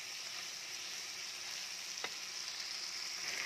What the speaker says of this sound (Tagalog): Haluin natin para yung mga sahog sa ibabaw naman siya.